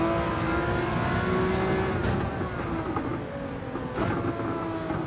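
Loud, steady race car engine drone in Gran Turismo 7, a continuous high-revving tone that dips slightly and swells again, with no talking over it.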